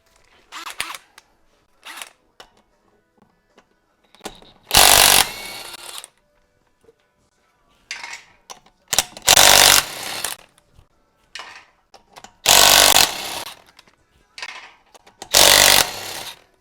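A DeWalt 20-volt impact wrench works on a 2000 Ford Ranger during a brake, rotor and bearing job, giving four loud, close bursts of rapid hammering at regular intervals, with quieter clanks and handling noises between them.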